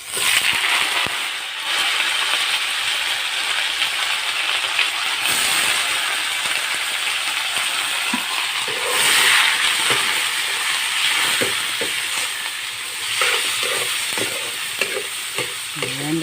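Pork fat and chunks of pork meat fry in a pan, giving a loud, steady sizzling hiss that runs unbroken throughout, with scattered crackles and faint scraping of stirring near the end.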